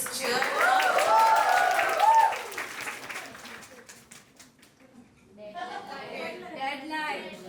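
An audience bursts into applause and cheers for a faculty member at a talk, loud clapping for about two seconds that fades, then talk follows.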